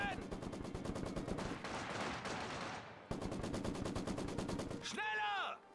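Rapid gunfire from machine guns and rifles in the Company of Heroes 2 World War II strategy game. Dense, fast bursts run almost continuously at close range, with a short break in the middle and a brief whooshing effect near the end.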